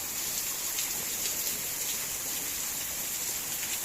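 Steady heavy rain with big drops pours down outside a home under renovation, a dense, even hiss of drumming water that continues without pause at close range, with no voices.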